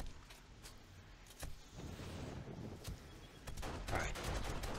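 An SMG turret firing inside a base in the 7 Days to Die Wasteland game during a red moon horde, heard as faint, rapid bursts of gunfire with crackling impacts that grow busier toward the end.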